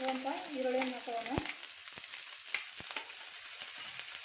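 Chopped onions going into hot oil with cumin and curry leaves for Udupi-style sambar, a steady frying sizzle with a brief clatter as they drop in, voice-like tones at the start.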